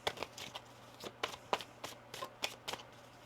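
Tarot cards are shuffled in a quick series of crisp riffling bursts, close and fairly quiet, with no talking.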